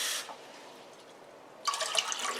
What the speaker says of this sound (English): Let me add 2 more cups of water.